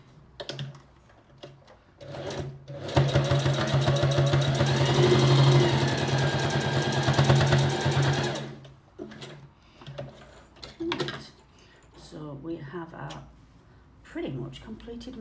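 A sewing machine stitches a fabric face mask in one steady, loud, fast-whirring run of about six seconds, with quieter handling noises and spoken remarks before and after it.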